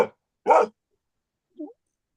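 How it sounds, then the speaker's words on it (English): A dog barks indoors in a studio: one sharp bark at the start, a second louder bark soon after, then a softer short yip a second later, each separated by silence. "Well, she's barking at something, but there's nothing there."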